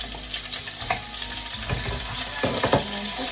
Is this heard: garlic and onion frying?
yes